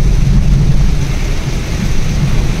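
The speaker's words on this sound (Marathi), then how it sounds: "इकडे पाऊस आहे जोरात" Heavy rain drums on the road near Rajapur along the Mumbai–Goa highway, a loud, low, rumbling wash under a driving vehicle, continuous with no speech.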